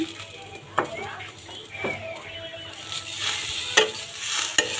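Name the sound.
flattened rice being stir-fried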